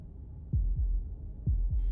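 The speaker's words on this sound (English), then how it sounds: "That was the sound of a heartbeat," Heartbeat in the video game Slay the Princess: two deep, close lub-dub double thumps about a second apart, low and muffled against a quiet background.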